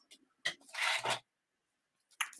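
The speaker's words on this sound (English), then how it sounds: "So I will then just snip that off" Giant scissors snip through folded paper during a craft demonstration, a couple of short rasping cuts close to the microphone with a longer scraping slice in the middle, then a final brief snip after a pause.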